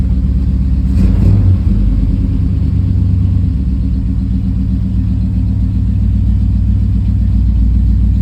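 A carbureted-to-EFI engine fitted with an ACES Killshot throttle-body system runs at a steady, loud idle, with a brief blip of revs near the start before settling into an even, throbbing rumble.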